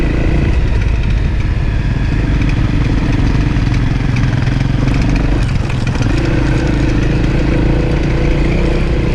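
A dual sport motorcycle running on the Alpine Loop mountain road, its engine droning loud and close at a steady pitch with rattly mechanical clatter and wind noise, briefly dipping in the middle before resuming.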